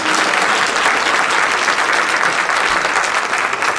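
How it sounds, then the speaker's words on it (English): A round of applause from the audience at an NAACP meeting, steady dense clapping filling the room from start to finish with no voices over it. "A nice round of applause,"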